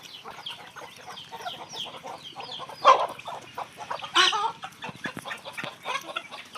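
Aseel chickens on a poultry farm cluck in scattered, uneven bursts with a few louder squawks standing out, fairly close and with no voices over them.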